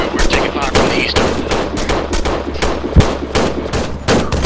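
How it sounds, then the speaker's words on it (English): Loud rifle fire during a military field training exercise, a rapid irregular string of sharp close shots with bursts overlapping, sustained across the whole span and heard alone without voices. "We're taking fire from the east."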